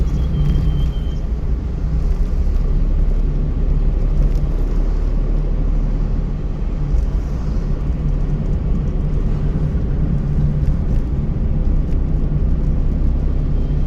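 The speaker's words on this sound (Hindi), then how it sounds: "पूरा क्लच दबाओ, लगाओ फोर्थ गियर।" A manual car held in fourth gear during a driving lesson, its engine and road noise forming a continuous low rumble heard from inside the cabin, steady and fairly loud throughout.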